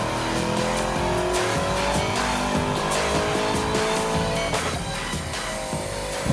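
A Chevrolet Camaro SS engine roars continuously at high revs, rising in pitch as it accelerates, loud and close, with some tire noise and no voices.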